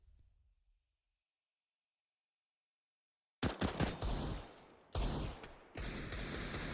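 Gunfire in the video game Counter-Strike: Global Offensive, with loud dense bursts of shots that start abruptly after near silence and come in several sustained volleys, alone with no commentary.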